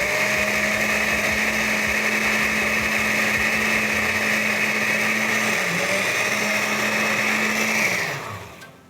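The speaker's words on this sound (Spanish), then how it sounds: "Vamos a ver cómo se está moliendo esto acá. Le voy a dar un toquecito más para acelerar." A kitchen blender grinds a bean cream sauce in one loud, steady whirring run, holding its pitch and then winding down and cutting off near the end.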